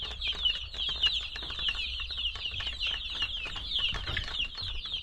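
Chickens and young chicks cluck and chirp steadily near the microphone at a Filipino backyard farm, with a constant high chorus of peeping over low rumbling background noise and no talking.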